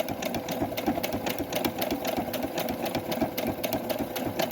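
A Brother HS-1000 computer sewing machine stitches fabric at a fast, steady rhythm of needle clatter, loud and close, running continuously without pauses.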